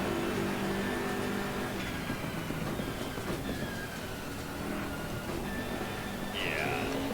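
Race car engine in the Assetto Corsa Competizione racing game, a continuous loud drone with shifting pitch as the car accelerates and shifts, heard alone throughout.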